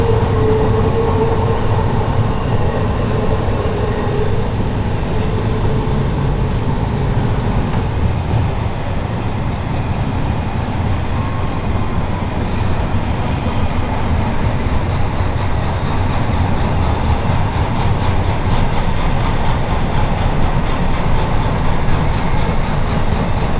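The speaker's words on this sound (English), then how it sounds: "an eastbound mixed freight met a westbound stack train right outside of our window" Two BNSF freights meet on the Lakeside Subdivision mainline in eastern Washington, an eastbound mixed freight passing a westbound stack train, as a loud, continuous rumble of wheels and cars rolls on steadily nearby.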